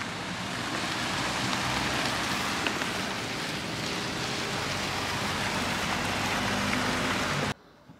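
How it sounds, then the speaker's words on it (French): Steady rain pours down on a surface during a road trip in Kyrgyzstan, a dense, even hiss that stays loud and unbroken for several seconds before cutting off abruptly near the end. "La pluie a l'air de s'être calmée"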